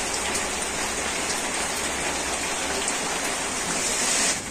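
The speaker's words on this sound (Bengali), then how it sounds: "আর একইভাবে বাকি নাস্তাগুলো আমি ভেজে নেব।" Semolina snacks deep frying in hot oil, a dense continuous sizzle and bubbling crackle, loud and close, steady throughout with no talking.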